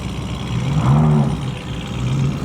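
A Lamborghini Urus with a modified exhaust revs at a car meet, one short throaty rise and fall of engine tone over a steady background rumble of the gathering.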